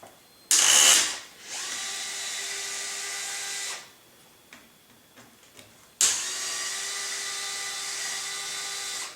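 Power drill removing screws from the tail boom of a Trex 700E PRO DFC model helicopter, two loud whirring bursts of several seconds each with a rising start, separated by a quiet pause with small clicks.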